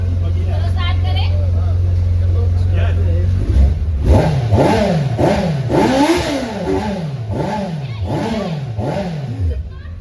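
A Kawasaki Z900 motorcycle engine cranks and fires up, then revs repeatedly in rising and falling swells, loud and close, with voices talking over it.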